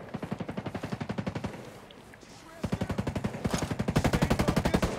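Automatic gunfire rattles in the video game Ghost Recon Breakpoint as loud, rapid, evenly spaced bursts fire close by, pausing briefly in the middle before resuming even heavier.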